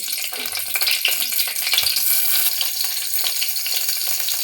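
Hot oil sizzles steadily in a pan on the stove, a continuous crackling hiss with scattered pops, close and fairly loud, with no voices.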